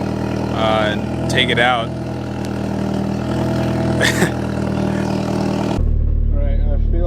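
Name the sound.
car engine running with ISR single tip blast pipe exhaust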